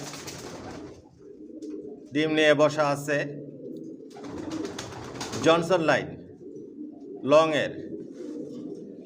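A Mili racer pigeon hen sitting on her eggs coos in several low, throaty bursts close by, while someone talks over and between the calls.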